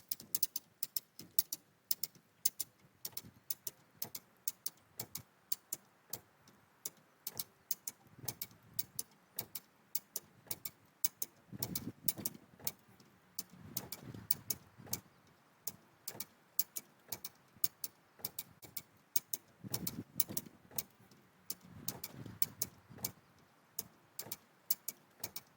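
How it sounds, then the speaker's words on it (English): Ratcheting clicks from a Wyeth Scott More Power Puller hand winch dragging a 4WD truck on a double line pull, a steady run of sharp, rapid ticks in repeated bursts, fairly close and with no talk. "the truck is being pulled with the double line pull with the Wyeth Scott more power puller"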